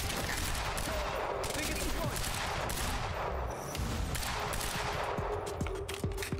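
Assault rifle gunfire in the Quantum Break video game, rapid continuous bursts of shots over a dense battle din, with a voice talking faintly underneath.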